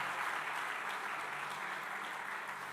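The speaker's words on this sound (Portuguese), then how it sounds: "Eu gostaria que você aplaudisse ao Senhor com as suas palmas nesse momento" A church congregation claps their hands in praise to the Lord, a dense, steady wash of applause throughout, fairly soft and distant, with no voices over it.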